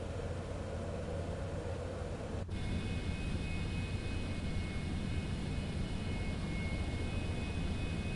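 Boeing 737 Max jet engines spooling up in Microsoft Flight Simulator 2024, a continuous dense roar with a steady whine that grows a little fuller partway through as the second engine joins.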